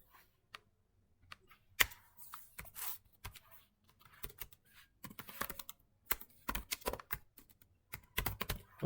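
Computer keyboard keys clatter in irregular bursts as code is typed, with short pauses between clusters of quick, close clicks and no voices.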